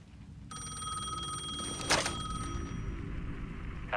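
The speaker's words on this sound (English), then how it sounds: "The payphone was ringing again." An old payphone rings in Alan Wake 2, a clear electric bell trilling continuously in a quiet, slightly echoing space, with a sharp burst of noise midway.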